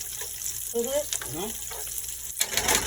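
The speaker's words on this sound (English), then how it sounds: "let's saute those" Food, with cabbage to follow, sautéing in a pan, a steady hissing sizzle through the short stretch with a louder burst near the end, while a voice talks over it.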